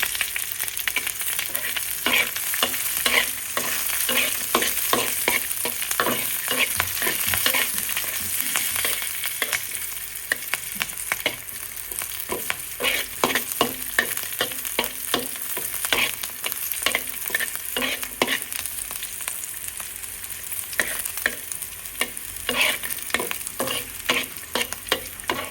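Garlic with green and dried chilies sizzles loudly in a pan, with constant frying hiss and rapid, repeated spatula scrapes and taps throughout, no voices.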